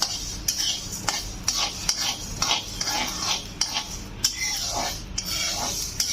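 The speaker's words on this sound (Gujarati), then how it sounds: "હવે મેથી શેકાવા માંડી છે." Fenugreek seeds being dry-roasted in a pan for sambhar masala, stirred with a metal spoon, give a repeated scraping rattle in an irregular rhythm, close and clear with no talking.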